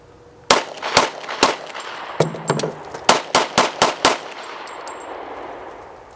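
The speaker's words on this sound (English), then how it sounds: "our shooter successfully completed the reload and began firing" During a firearms demonstration, a gun fires three spaced shots, goes through a clattering metallic reload, then fires a quick series of five loud, sharp shots, all fairly close.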